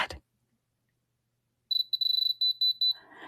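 A jewelry tester gives a series of short, shrill electronic beeps in an irregular burst, some clipped and some held slightly longer, after a brief knock and a quiet pause.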